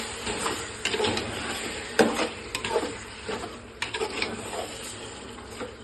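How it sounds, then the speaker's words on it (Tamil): Stirring tomato, chilli powder and garam masala in a pan for chicken biryani: irregular scraping and clinking strokes of the spoon over a soft sizzle, close and alone. "போட்டுட்டு எல்லாத்தையுமே வந்து நல்லா மிக்ஸ் பண்ணிக்குவேன்"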